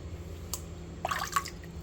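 Cooked potatoes drop into a bowl of water with a few quick, faint splashes and drips over a quiet background hum.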